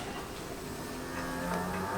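A cow mooing sound effect plays during a high school stage performance of the play Fools. It is a fairly faint, drawn-out low moo over a hissy, noisy room background.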